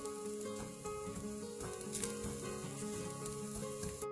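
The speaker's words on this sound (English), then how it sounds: "Make sure you cook the coconut on a medium low flame because we don't want to burn our coconut" Grated coconut frying in a pan over a medium-low flame, a soft continuous sizzle with faint crackles and occasional stirring, close and steady throughout with no voices.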